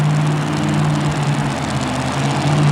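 A supercharged Chevy drag-style truck pulling entry runs its engine at a Pennsylvania 2WD truck pull, a steady, loud droning roar with a sustained low hum and no talk over it.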